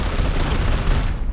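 Psychic bullet attack detonating in Warhammer 40,000: Chaos Gate – Daemon Hunters, a dense, loud burst of explosive crackle and rumble lasting about a second before cutting off.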